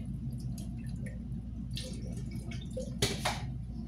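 Water dripping and splashing as blended residue is strained, small irregular drips with one louder splash near the end, faint against a low steady hum.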